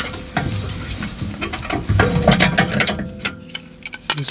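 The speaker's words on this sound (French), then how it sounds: "Maintenant on va passer au démontage de la roue." Wheel nuts being loosened on a VW Golf 6: close mechanical ratcheting and clattering metal clicks in irregular bursts, with no talking.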